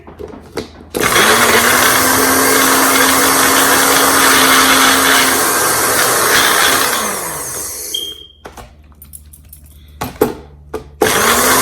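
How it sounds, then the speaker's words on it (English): A kitchen blender whirs loudly and steadily for several seconds, then winds down, followed by a few clunks and scrapes. "Blender."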